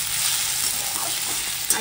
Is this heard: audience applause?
no